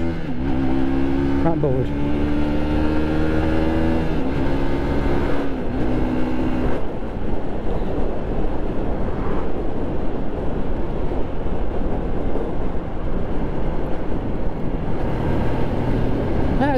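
Manual car driven without the clutch, engine note rising and dropping through a few revs before giving way to steady road and wind roar, with people talking loudly over it.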